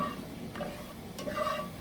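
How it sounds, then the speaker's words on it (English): Butter and all-purpose flour cooking together as a roux in a large pan, giving a soft steady sizzle with a couple of faint scraping stirs, close and fairly quiet. "To this, I'm adding 2 tablespoons of all-purpose flour."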